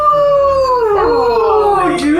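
A person imitates a wolf howl, one long wavering voiced howl that slides downward and then rises again, close and loud, with no other talk.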